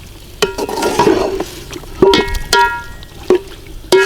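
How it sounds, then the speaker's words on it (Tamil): A kilo of chicken is stirred and fried in a pot for chicken biryani, with sizzling oil under repeated sharp scrapes and clanks of a metal ladle against the pot, loud and close. "1 கிலோ கோழிக்கறி போட்டு அப்படியே பரட்டுறோம்."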